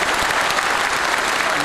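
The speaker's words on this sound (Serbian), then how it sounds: "Tačno vidim kako tapšu samo ljudi što stoje, ovi što nisu funkcioneri." Dense applause from a crowd at a party election assembly, steady continuous clapping throughout with a faint voice beneath it.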